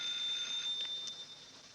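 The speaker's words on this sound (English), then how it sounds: "There's a ring." An old telephone bell rings in a 1944 mystery film, a faint, steady high tone with brief pulses over low background hiss and no speech.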